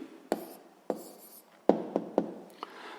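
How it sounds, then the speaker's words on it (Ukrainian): Pen on paper writing down an answer: a series of short, crisp scratching strokes in an irregular rhythm, close and fairly quiet, with no talking. "Записуємо відповідь."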